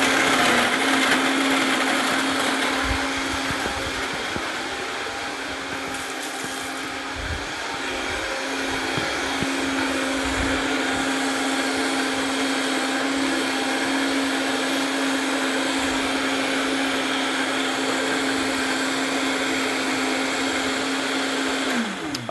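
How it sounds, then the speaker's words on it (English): A blender whirs loudly and steadily, blending a banana protein shake with ice cubes, its motor roaring without pause for the whole stretch and no voices over it. "Watch how easy this is to blend up."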